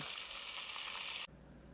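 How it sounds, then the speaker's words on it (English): Shrimp coated in a spicy hot sauce mixture sizzle loudly in hot oil, a dense steady crackle that cuts off abruptly after about a second, leaving a quiet background. "Get you some hot oil and add them in."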